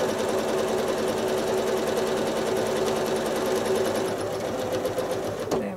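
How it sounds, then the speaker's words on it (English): A sewing machine runs steadily through free motion quilting, travel stitching and echoing to fill space in a fish fin design; the close, even motor drone and rapid needle chatter continue throughout, with a slight change near the end. "It's just some careful travel stitching and echoing in there in order to fill that space up completely."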